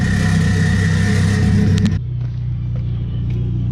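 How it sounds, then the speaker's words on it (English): A Dodge Neon SRT-4 fitted with a turbocharged four-cylinder engine runs close by with a loud, steady rumble that suddenly drops to a lower, quieter idle halfway through. "That sounds great for a little 4-cylinder turbo Neon"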